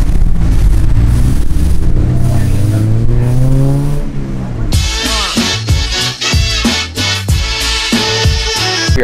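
A Honda Civic Si on a race track revs hard through the gears, the engine climbing in pitch before sharp shifts and repeated throttle pulses, loud and close as if from inside the car.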